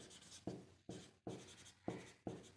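Math equations for a class 10 exercise being handwritten, five short, regular pen strokes scratching across paper at an even pace, close and quiet with no talk.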